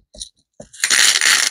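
Loose pocket-change coins drop into a jar, a couple of sharp clinks followed by a dense rushing jingle of many coins pouring in, close and loud.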